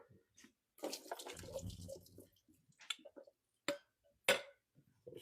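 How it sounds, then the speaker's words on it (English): Canned beans rinsed under a running kitchen tap, with water splashing and dripping in bursts, a steady rush in the middle, then scattered sharp drips and taps near the end, close up and moderately loud, no talking. "just rinse off all that starchy water"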